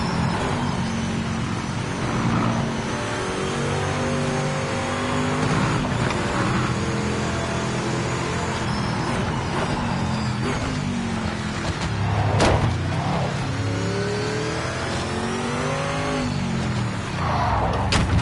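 Race car engine on a qualifying lap in Project Motor Racing, a loud, steady, revving drone that climbs and drops through gear changes across the whole lap, with no talking.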